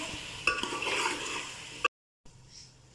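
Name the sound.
chicken and spinach cooking in a pot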